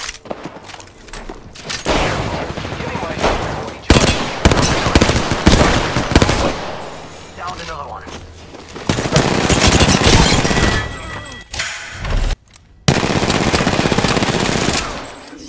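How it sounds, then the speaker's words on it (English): Apex Legends gunfight: sustained automatic bursts and heavy shots rattle close and loud almost without pause, with a brief gap near the end before another long burst. "I am taking fire, friend."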